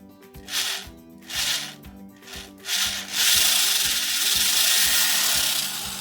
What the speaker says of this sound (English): I got my drill bit attached. I think I'm gonna start with a pilot hole first.